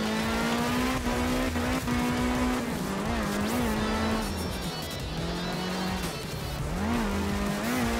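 A heavy rally car in the video game art of rally drones steadily at close range, its engine pitch rising and falling through gear changes, with tire squeals and skids along the way.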